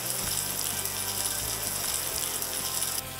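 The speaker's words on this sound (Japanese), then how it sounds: "薄力粉に両面つけて中火で焼いていきます。" A flour-dusted pork cutlet fries in a pan over medium heat, giving a steady, even sizzling hiss throughout with no voices.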